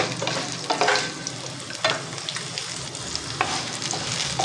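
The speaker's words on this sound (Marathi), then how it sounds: "आता हे आपले हे तडतड उडायला लागले छान" Green chillies crackle and sizzle while being roasted in a pan over low heat for amla chutney, a dense steady frying hiss peppered with sharp pops and occasional stirring scrapes, close up.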